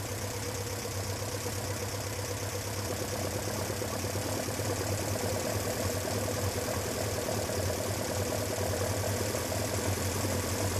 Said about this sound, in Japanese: 徐々にエンジンの振動が減って滑らかになると思うんですけれども、 それに伴ってエンジンの回転も上がっていきます。